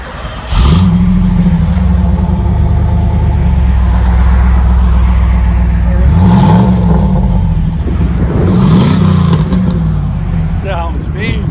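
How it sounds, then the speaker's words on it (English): A 1991 Chevy Camaro Z28 25th anniversary edition with a full Magnaflow dual exhaust system revs loud and close, its deep engine note swelling and falling through several throttle blips, with a voice speaking briefly over it. "There's the MAGNAFLOW system on it."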